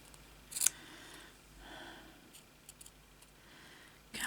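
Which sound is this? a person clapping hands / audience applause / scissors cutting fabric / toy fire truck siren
scissors cutting fabric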